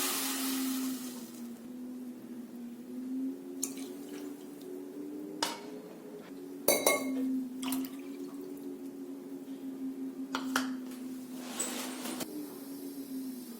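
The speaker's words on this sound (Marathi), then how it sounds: "यामध्ये 3 कप पाणी घालूया।" Water poured onto three cups of sugar to make gulab jamun syrup, faint trickling and drips over a steady low hum, with a few sharp clinks and knocks scattered throughout.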